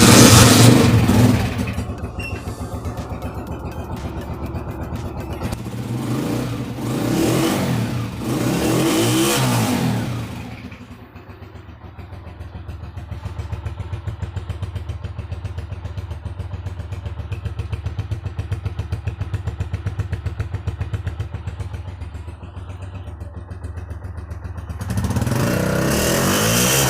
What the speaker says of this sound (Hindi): अभी हम बाइक को स्टार्ट करेंगे और बाइक का साउंड चेक करेंगे।